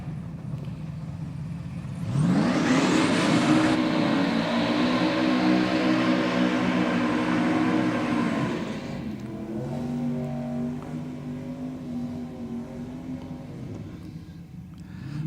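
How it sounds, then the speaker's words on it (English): Drag racing cars doing burnouts at Sydney Dragway, including a Top Sportsman car and a custom performance ute, a loud sustained engine roar with squealing tyres that rises abruptly, holds for several seconds, then eases to a lower rumble. "Joe with a big burnout, definitely putting some heat in the tyres. Eden pretty much following him up with the same"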